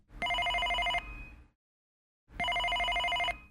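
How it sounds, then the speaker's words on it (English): A telephone bell rings in two bursts with a short silent gap between them, loud and close, with no voices over it. "She was interrupted by the phone."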